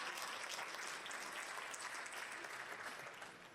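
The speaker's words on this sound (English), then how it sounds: "Another round of applause." An audience at the Asian Business Awards 2025 gala gives a round of applause: a steady, even patter of many hands, faint and distant, tapering slightly at the end.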